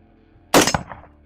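A single rifle shot fired downrange at an outdoor shooting range: one sharp, loud crack followed by a short, rolling echo that fades within about half a second.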